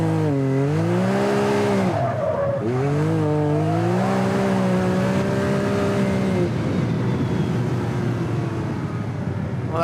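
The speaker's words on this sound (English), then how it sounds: "Well, that was a little bit of fun on the pavement." A Can-Am Maverick X3 side-by-side fitted with an MBRP performance exhaust revs loudly on pavement, its engine note repeatedly rising and falling through gears with raspy exhaust roar and some tire noise, close and sustained.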